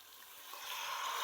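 Spices with ginger and garlic fry in a pan for a homemade egg biryani, giving a steady, soft sizzling hiss that swells slightly louder as it goes on, with no voices.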